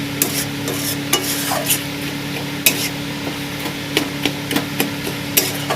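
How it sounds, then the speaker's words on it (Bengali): Masala for a potol chicken dorma is stir-fried in a pan, with a busy sizzle under repeated sharp, irregular knocks and scrapes of a spatula against the metal, close and fairly loud. "যার জন্য আমি ভালো করে কষিয়ে নিচ্ছি মশলাটা"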